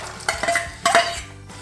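A metal kadai pan clatters and scrapes while cooking after ginger-garlic paste has been sautéed, with two sharp knocks of metal against metal amid softer stirring clinks; no one speaks.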